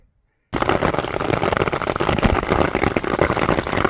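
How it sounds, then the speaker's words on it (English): Hail patters densely and steadily on an umbrella on a mountain trail in Colorado, a close, continuous rattling that starts abruptly after a brief silence. "hiding down in some crumholts, hailing, got my umbrella up."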